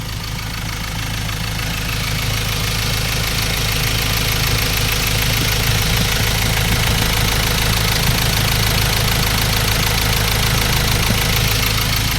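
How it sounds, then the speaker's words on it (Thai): A Ford Ranger pickup truck engine idles steadily and loudly up close, a constant low rumble with a faint ticking knock running throughout, no voices. "อ่าฟังเสียงเครื่องยนต์ครับ แน่นๆครับ"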